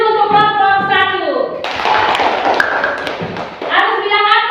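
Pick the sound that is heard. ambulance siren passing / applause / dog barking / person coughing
applause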